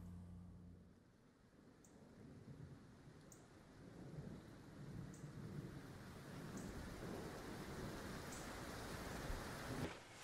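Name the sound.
rain and thunder in a film scene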